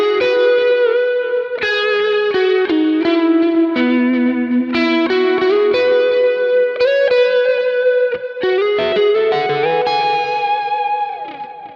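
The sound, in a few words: clean lead electric guitar through Kemper profiler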